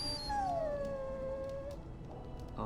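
A dog whimpers in Dragon Age: Origins, one drawn-out, high, falling whine that trails off, heard alone and fairly close against soft background ambience.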